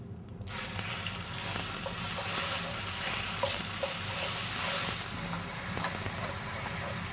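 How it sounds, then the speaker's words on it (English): Cumin seeds dropped into hot oil crackle into a loud, continuous, bright sizzle that starts abruptly and holds steady up close, with faint scattered pops and no talking. "So when I put the cumin seed, you see how it flutters?"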